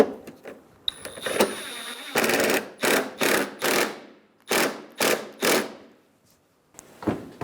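A bolt is fastened into a front bumper bracket on a 2007-2011 Toyota Camry: a series of about eight short, sharp mechanical bursts with brief pauses between them, close and fairly loud.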